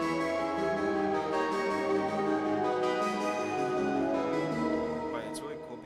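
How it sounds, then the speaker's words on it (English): A distorted FL Studio synth with a quadrivox effect sounds a dense, buzzing chord held steadily and loudly for several seconds, fading slightly at the end. "I just added some distortion to it and some quadrivox,"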